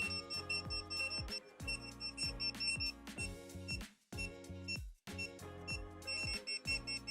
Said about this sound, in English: So the controller beeps, and this collar is vibrating. That's what you're hearing.